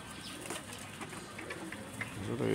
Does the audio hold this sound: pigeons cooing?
yes